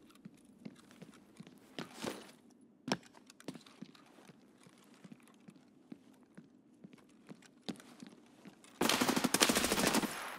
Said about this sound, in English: I'm getting shot by another demon